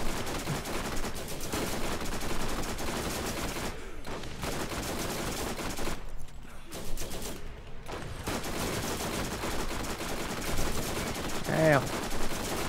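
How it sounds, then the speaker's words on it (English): Rapid SMG fire in the Borderlands video game crackles in dense bursts with a few short breaks, loud and continuous over game noise. "This SMG is real good."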